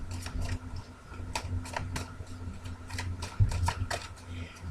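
Tarot cards are drawn and shuffled from a deck, making repeated crisp flicks and snaps at an uneven rhythm, close by, while a person talks quietly over them.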